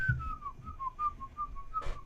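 A person whistles a single wavering tune, one steady sustained tone gliding up and down across about two seconds, fairly close with a low rumble underneath.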